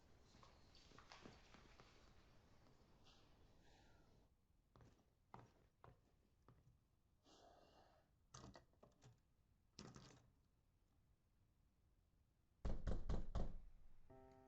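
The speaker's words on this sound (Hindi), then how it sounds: "होज़डा, दरवाजा खोल" Sharp knocks on a door come in separate bursts with pauses between them, ending in a louder run of rapid pounding; no one speaks.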